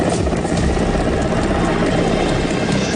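A rescue helicopter hovers low over floodwater during an Air Force rescue operation, a loud, dense, continuous rotor and engine roar with steady chopping texture.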